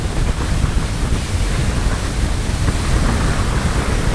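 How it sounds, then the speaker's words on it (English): Heavy wind roars across the mic during ocean efoiling on choppy, bumpy water at speed heading upwind, a loud, constant broadband rush with wave noise mixed in. "That's windy."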